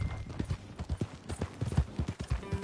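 Horse hooves clip-clopping in Red Dead Redemption 2, a steady close trotting rhythm of dull thuds repeating for a few seconds with no talk over it.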